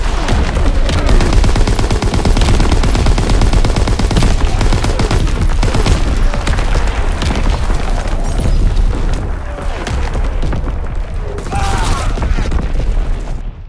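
Booming artillery battery fire in Call of Duty: WWII, a dense, loud barrage of overlapping blasts and rattling gunfire that rolls on continuously, easing slightly near the end.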